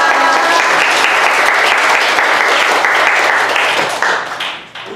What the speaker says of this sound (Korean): 나오실 때 할렐루야로 박수로 환영했습니다